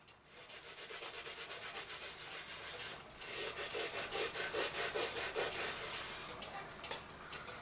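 Wax is worked into the aged wood of a vintage Sears Roebuck railroad cuckoo clock in a steady back-and-forth rubbing. The strokes are close and rhythmic, pause briefly, then resume.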